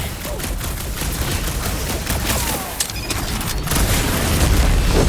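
Weapon fire in the action video game Guardians of the Galaxy: a dense, continuous barrage of rapid shots and booms, loud and unbroken across the whole stretch.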